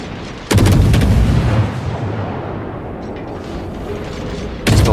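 Deep booming naval gun volleys from a warship in the World of Warships video game, two heavy blasts a few seconds apart with a rumbling roar and mechanical noise between them, loud and close.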